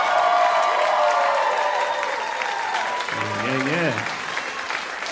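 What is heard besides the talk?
audience applause for the musicians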